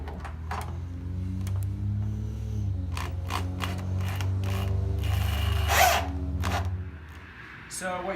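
Power drill whirring steadily as it drives self-tapping screws to mount a 52-inch light bar on a truck, followed by clicks and handling noises, close and moderately loud, with someone talking over it.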